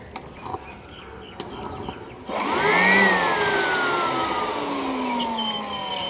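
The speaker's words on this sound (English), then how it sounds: "See, here I have a blower machine. You may be knowing it's called industrial blower" An industrial blower machine switches on after a few faint knocks, rising to a loud whirring rush with a falling whine as it spins up, then running steadily.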